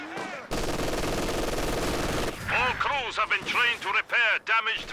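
Machine gun fire from the Company of Heroes 2 video game rattles in a sustained burst, then breaks into shorter bursts and other game effects, with commentary talk over the action.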